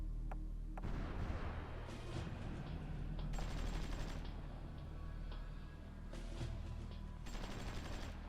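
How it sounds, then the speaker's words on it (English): Artillery fire in the strategy game Supreme Ruler Ultimate, with repeated booming shots and mechanical clanks over steady in-game background noise. "Let's move up the artillery down here."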